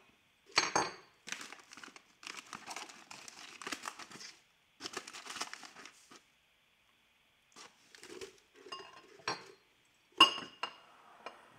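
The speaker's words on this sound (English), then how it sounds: "We're going to whisk in our flour, our sugar now." Flour and sugar being whisked in a bowl, heard as irregular bursts of clinking and scraping against the bowl separated by short pauses, fairly close and with no talking.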